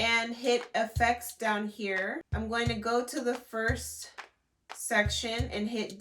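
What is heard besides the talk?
No everyday noise stands out behind the speech.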